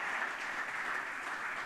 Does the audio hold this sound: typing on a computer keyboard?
no